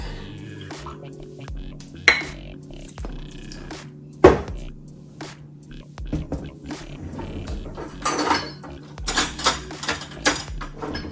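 Salmon salad being tossed with fish sauce in a bowl, with scattered clinks and scrapes of utensils against the dish, a few sharper knocks standing out, and busier mixing toward the end.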